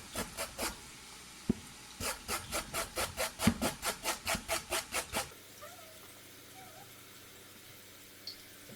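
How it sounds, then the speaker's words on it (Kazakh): A carrot is rubbed over a large grater in quick rhythmic strokes, a few at first, then a fast run of about a dozen close, scraping passes before it stops and the room goes quiet. "Одан кейін сәбізімізді үгіштен өткіземіз."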